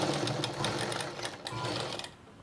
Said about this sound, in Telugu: ఇలా స్టిచ్చింగ్ చేసి స్టార్ట్ చేసి